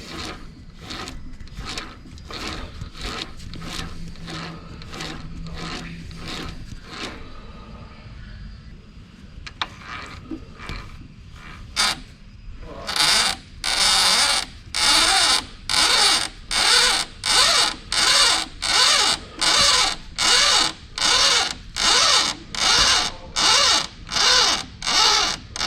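A metal lathe cuts a fine 62 tpi thread on an antique bike part, with rhythmic repeated scraping passes that start softer and become loud, evenly spaced rasping bursts after a brief quieter pause.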